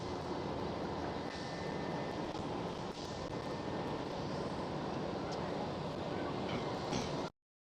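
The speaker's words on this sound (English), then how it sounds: "KLM A330 speeding down the runway." A KLM Airbus A330 roars down the runway at Schiphol Amsterdam on takeoff, a steady broad rushing jet noise heard from a distance that cuts off abruptly at the end.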